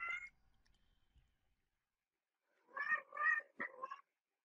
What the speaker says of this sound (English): If you can hear that, that's my cat.